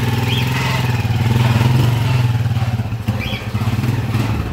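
TMX155 motorcycle engine converted to 200cc with a 6-speed transmission, idling loud and close with a rapid uneven chugging pulse and mechanical clatter, briefly dipping and picking back up.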